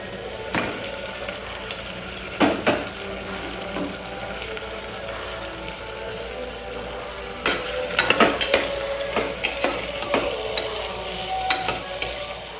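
Potatoes, green chili and curry leaves frying in a pan for a quick potato curry, a steady soft sizzle broken by several louder scraping stirs and clatters, close by with no talking.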